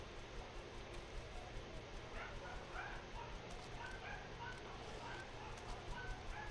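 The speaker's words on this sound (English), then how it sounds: "The doggos be going wild." Dogs in the Valheim video game yip, whimper and bark faintly and at a distance in a swamp area over a constant low background hum. There is no speech.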